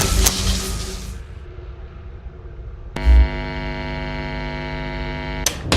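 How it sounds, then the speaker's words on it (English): A controlled electric shock in the video game Five Nights at Freddy's: Sister Location sets off an abrupt, loud electrical buzz with a thump at its onset. The steady humming tone holds for nearly three seconds, then cuts off sharply. "Let's try another controlled shock."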